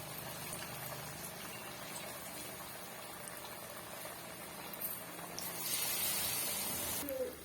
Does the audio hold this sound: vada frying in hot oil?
yes